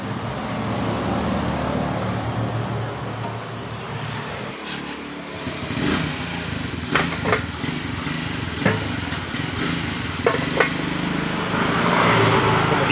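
A motorcycle engine runs continuously during a test after fuel system work and a change to the rotak part, with fuel pressure set at 25 PSI, giving a loud steady drone with brief revving swells and some clatter up close.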